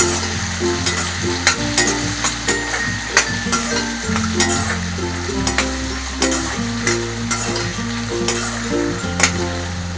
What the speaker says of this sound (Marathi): आता कांदा टाकूया कांदा जरा लाल होईपर्यंत जरा परतून घेऊया आपण